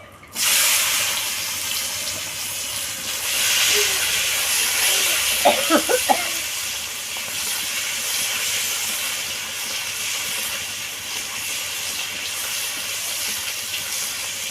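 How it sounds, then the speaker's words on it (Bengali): Chopped tomatoes hit hot oil already tempered with nigella seeds and dried red chillies, giving a loud, steady hiss and sizzle that flares at the start and holds evenly throughout, with a few brief clinks of a utensil partway through. "এবার আমি টমেটো কুচিগুলো দিয়ে দেবো"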